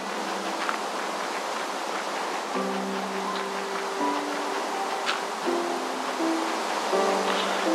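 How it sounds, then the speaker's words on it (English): Underground waterfall in the block-building game Minecraft, modded with Tekkit: a steady, even rush of falling water runs throughout, with soft musical tones layered over it. "Underground waterfall here."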